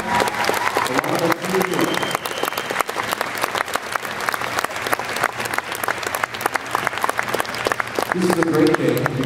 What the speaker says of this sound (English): please give them a round of applause as they come up